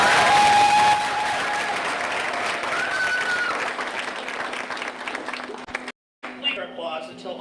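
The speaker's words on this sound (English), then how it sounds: "Please give our escorts with a round of applause." An audience at a Miss Salem pageant applauds the escorts with steady clapping that gradually fades. A speaker's voice then follows the applause after a brief gap.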